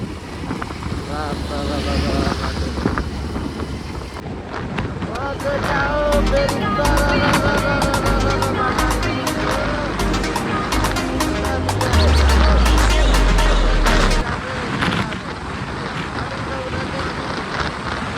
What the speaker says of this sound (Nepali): यस्तोमा चाहिँ स्कुटर कुदाउनु हुँदैन